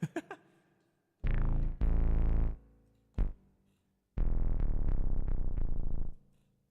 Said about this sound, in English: So here's one called fuzz bass.